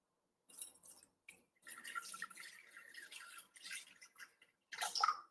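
Water is poured into a Thermomix TM6 bowl in a home kitchen. Faint, close splashing and trickling comes in several uneven bursts separated by short pauses.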